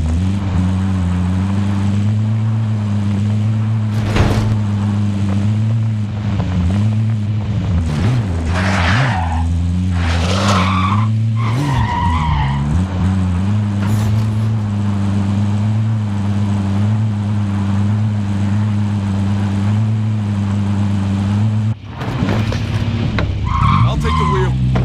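Car engine droning steadily in the video game Warzone, with tire skids and squeals breaking in midway and a short gap near the end before the engine returns; a brief in-game voice line is heard.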